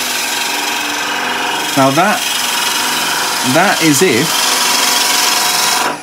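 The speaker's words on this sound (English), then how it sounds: "just hold on to the chisel nice and gentle. Let it drift over all those high spots." A wood-turning chisel cuts a spinning top on a lathe, giving a steady, loud shearing hiss throughout while someone talks briefly over it.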